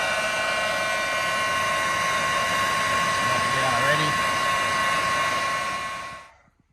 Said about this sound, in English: Get some heat on that shrink and just help that stay secure.